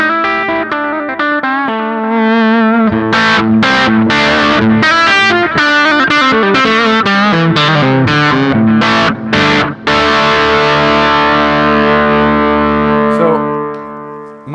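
A heavily distorted Strandberg Boden electric guitar plays fast chugging riffs and sustained notes through the lead channel of a Hughes & Kettner Black Spirit 200 amp, ending on a long ringing chord.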